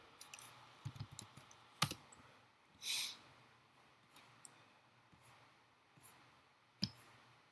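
Computer keyboard typing in a bathtub, a sparse handful of quiet clicks and taps spread irregularly across a hushed room, with one short soft rush in the middle.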